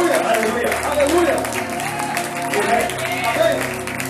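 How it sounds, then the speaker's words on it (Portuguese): Church congregation applauding at a worship conference, a steady dense wash of clapping that runs throughout, mixed with crowd noise and a voice over the top. "I want you to put your hands together for the Lord."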